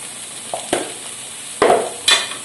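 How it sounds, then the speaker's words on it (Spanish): Red pepper and garlic sautéing in a pan over medium heat, with a few short stirring and scraping bursts over a faint sizzle, close by and with no voices. "removemos un poco para que se vaya rehogando"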